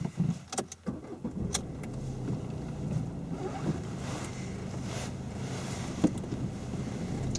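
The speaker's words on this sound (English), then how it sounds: "Right, we can start the engine as normal." A car engine starts during a driving lesson and settles into a low, steady idle rumble from inside the car, with a few sharp clicks and knocks near the start and one near the end.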